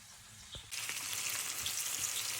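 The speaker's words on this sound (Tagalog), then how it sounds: "Ginisa na natin ang mga lamas. May luya, may bawang, may bombay, at saka sibuyas dahon." Ginger, garlic, onion and spring onion hit a hot pan and break into a loud, steady sizzle after a couple of quiet knocks, continuing close and unbroken without speech.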